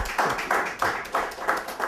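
Applause from a launch party audience, rhythmic bursts of clapping pulsing about every third of a second, moderately loud and close, with no talk over it.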